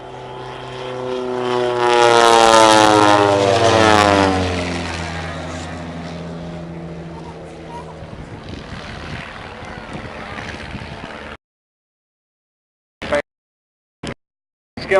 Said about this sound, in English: he puts a big boot full of rudder in and turns the aircraft, using the rudder only, what we call a stall turn